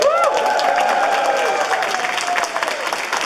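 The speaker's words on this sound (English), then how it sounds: "So round of applause, first of all." At an anime convention panel, an audience applauds the cosplayers, with steady crowd clapping and some cheering, while sustained tones sound over the top throughout.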